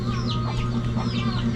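Chickens cluck in short, repeated calls over a steady background hum, moderately close, with several birds calling through the clip.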